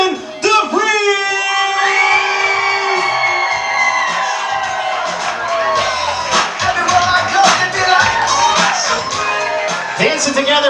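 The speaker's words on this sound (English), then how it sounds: "Big round of applause for Mr. and Mrs. Austin DeVries" Wedding reception guests cheer, whoop and yell loudly for the newly introduced bride and groom. The sustained wave of shouts is dense with sharp claps, and music plays underneath.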